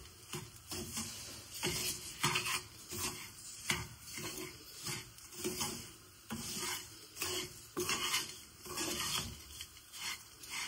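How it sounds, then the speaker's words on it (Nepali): Ground masala fries in ghee in a pan while a utensil stirs it in repeated scraping strokes, giving a quiet, rhythmic rasp over a faint sizzle. "अघि भुटेर ग्राइन्ड गरेकोलाई अझै घिउमा मजाले भुट्दै हुन्छ"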